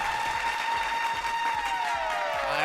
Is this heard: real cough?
no